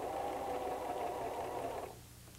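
A White 1735 sewing machine runs a zigzag stitch at stitch width 4, a steady close whir for about two seconds before stopping.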